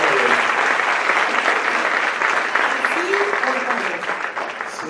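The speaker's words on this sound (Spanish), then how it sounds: "Si no, un aplauso fuerte al Señor." A church congregation at a Sunday service bursts into loud, dense applause, a sustained roar of clapping that holds steady and eases slightly toward the end, with faint voices underneath.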